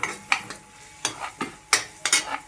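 Mixed vegetables are stirred and sautéed in oil in a pan, a spatula scraping in several quick strokes over a soft sizzle, close up with no talk.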